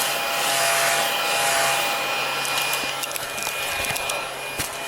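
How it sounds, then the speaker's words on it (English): A steady, high-pitched motor whine with a broad airy hiss runs throughout, close and fairly loud, with a few faint clicks near the end. "It's a vacuum."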